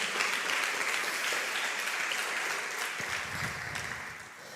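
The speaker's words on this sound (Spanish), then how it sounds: "Otro aplauso grande al Señor." A church congregation claps for the Lord after a sermon, a broad wash of dense applause that stays strong and fades slightly toward the end, with a few low thumps.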